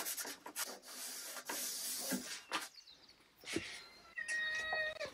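A cat meows a few times up close amid rustling and rubbing noises, with a high drawn-out meow near the end.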